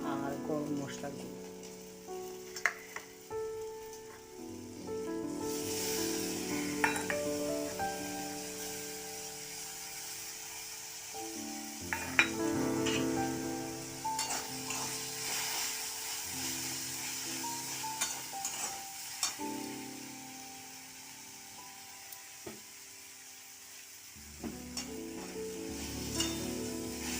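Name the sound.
spices (turmeric, chili, cumin, garam masala) frying with taro flowers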